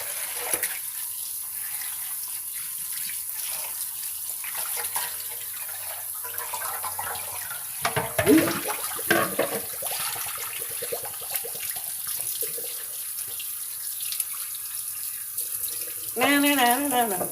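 A kitchen tap runs steadily into a sink while raw chicken is washed, with water splashing and shifting as the chicken is handled and a louder gush near the end.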